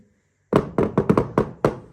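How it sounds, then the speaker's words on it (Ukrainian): Six sharp knocks on a Kinder Surprise chocolate egg, close and distinct, spaced irregularly after a short silence, with two taps falling in quick succession mid-sequence. "А давай постукаємо."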